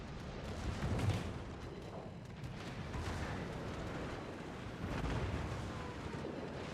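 Gunfire and explosions from the Yodo, a Tier 10 Japanese cruiser in World of Warships, heard as a continuous rumbling barrage of dense booms with swells of heavier blasts, no talking.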